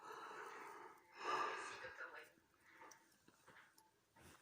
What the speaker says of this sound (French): j'arrête pas de bailler, ça fait 3 fois